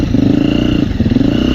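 A small single-cylinder four-stroke dirt bike engine runs loud and close, a steady throbbing drone with slight rises and falls in revs.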